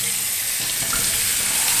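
Water runs steadily from a tap onto toilet tissue being soaked, a loud, close, continuous hiss and splash with no break.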